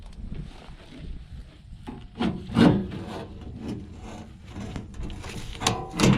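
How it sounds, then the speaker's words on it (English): A metal door on a Gehl silage wagon is pried open with scraping, rubbing and grinding bursts, close and uneven, with several louder scrapes partway through. "hopefully I can pry this door open to see what grease fittings are in here"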